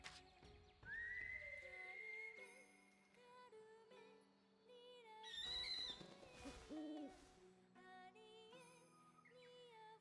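A bird in the video game Monster Hunter gives a string of whistled, hooting calls with sliding pitch over layered game music, moderately loud and close.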